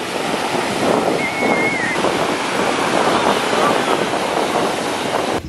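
Ocean waves at a beach on the Fourth of July, a loud continuous wash of surf mixed with heavy wind buffeting the microphone.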